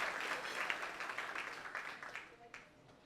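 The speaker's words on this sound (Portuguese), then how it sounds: "Uma salva de palmas, Rafael, o CEO aí do Hard Rock Curitiba" Audience applause at a tourism-sector event at a Hard Rock Cafe in Curitiba, Paraná, steady crowd clapping heard at a distance and fairly faint, fading toward the end.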